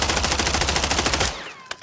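Fast automatic gunfire from a Warzone loadout in a video game, a steady loud burst of evenly spaced rounds that cuts off, followed by a brief single clatter.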